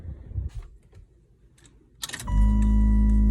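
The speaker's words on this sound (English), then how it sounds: "you hear those humming back there? That's the compressors." After a few faint clicks and knocks, a steady electric hum starts up and holds as air compressors run in the trunk of a 1996 Impala SS.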